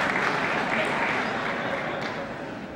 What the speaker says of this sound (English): we had one member of Congress stand up and applaud.